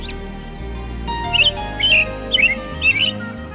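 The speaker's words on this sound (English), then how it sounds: "American robin, permanent resident" An American robin calls in the Great Smoky Mountains, giving a series of four short, chirpy, warbling phrases in a steady rhythm, close and clear over a low background hum.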